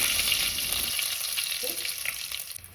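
Curry leaves frying in hot oil as tempering for a Mangalore-style chicken curry, a steady close sizzle with bright crackle throughout, no talking.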